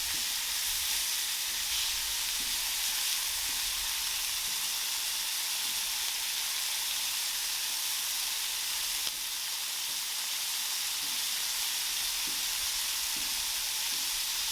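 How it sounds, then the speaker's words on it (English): Barbacoa meat searing in a hot pan throws a dense, steady sizzle and hiss that holds evenly throughout, with only faint occasional shifts as pieces are turned. "Getting a nice little sear on them."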